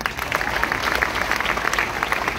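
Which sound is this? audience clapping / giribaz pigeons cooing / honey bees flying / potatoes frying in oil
audience clapping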